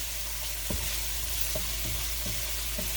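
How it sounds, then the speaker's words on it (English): Seasoned vegetables frying in olive oil, a loud, constant sizzle with several soft knocks of a utensil stirring through the pan. "And just stir it up."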